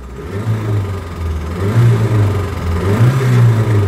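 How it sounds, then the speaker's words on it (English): The engine of a 40-year-old second-generation Honda Civic in neutral revs up twice from idle, the pitch rising and falling in two swells, loud and close with no voices. "let's just give it a couple of revs here"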